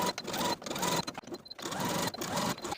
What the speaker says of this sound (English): take it back to the sewing machine and sew the pocket to its seam allowance